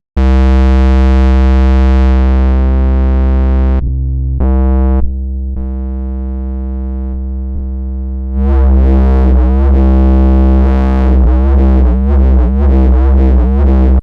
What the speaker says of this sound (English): Let's add another filter with a lot of distortion.